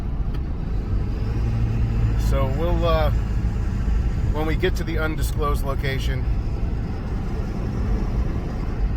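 A loud, steady diesel roar from truck exhaust stacks rumbles throughout, with someone talking over it partway through.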